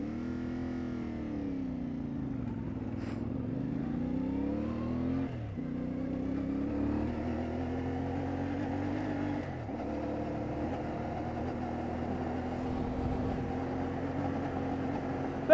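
CFMoto 450MT motorcycle being ridden, a smooth steady engine drone rising and falling in pitch through gear changes, moderate and continuous with no talk.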